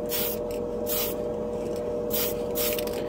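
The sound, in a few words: spray paint can spraying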